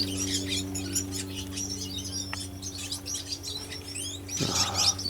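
Young cock and hen birds chirp in a nest aviary: rapid, overlapping high tweets come close and steady over a constant low mechanical hum, with a louder flurry of calls near the end.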